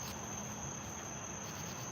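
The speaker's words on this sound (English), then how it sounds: "That's a cicada. You hear it?" A cicada drones outdoors at night in a steady, unbroken high buzz that fills the background at moderate loudness, with no voices.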